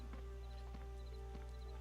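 Faint, rhythmic clip-clop of horse hooves from the Uthgard server of Dark Age of Camelot, a steady trot over a constant low hum of game ambience.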